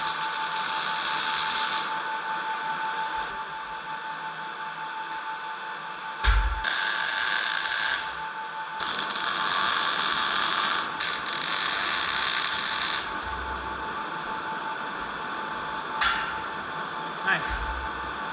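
Welding beads are run around the joints of a metal storage rack, a steady loud crackling buzz broken by short pauses and restarts, with a voice briefly speaking over it.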